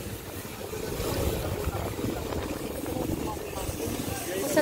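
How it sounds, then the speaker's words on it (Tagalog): Strong wind roars steadily outdoors at a wall demolition site on Smokey Mountain, a dense, low, buffeting rumble that fills the whole stretch without pause. "Ah, sobrang lakas ng hangin."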